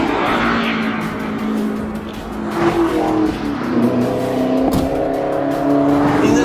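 A 2018 Chevrolet Camaro ZL1 1LE is driven hard, its engine loud and close as it revs up and down in strong, rising and falling surges.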